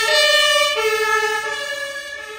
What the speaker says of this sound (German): Da hinten der Sirenen, Alter.